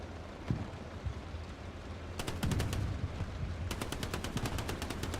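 Machine-gun fire in the Hell Let Loose World War II shooter, played on the Mortain map: two sharp, rapid bursts ring out in quick succession over a low battlefield rumble, with a lone earlier shot and no voices.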